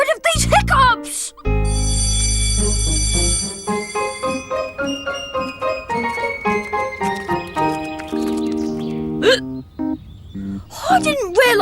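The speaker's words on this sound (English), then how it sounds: "how am I going to get rid of these hiccups?" Cartoon hiccups from Horrid Henry, short sharp hics popping out between bright musical notes and animated character voices, all fairly loud and close.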